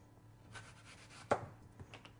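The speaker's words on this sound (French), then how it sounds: "On va couper les pommes finement, comme ça." Knife slicing green and red apples finely on a board, faint quiet cuts with one sharp clear chop and a few soft taps after, no talking.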